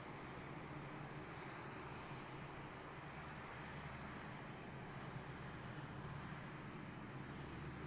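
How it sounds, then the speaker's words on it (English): In Microsoft Flight Simulator 2024, a jet aircraft flies somewhere behind, a faint, steady broadband engine roar that holds evenly throughout with no voices. "I hear Glamrock's jet behind me."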